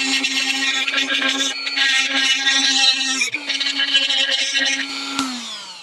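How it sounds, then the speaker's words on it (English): An angle grinder grinding out weld porosity on a Scout door, a loud, steady high whine that dips once midway and winds down at the end, with a voice speaking over it. "So I'm going to clean this up with the grinder. So just grind out that porosity."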